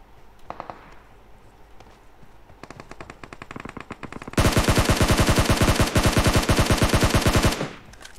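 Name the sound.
machine gun spray firing in a video game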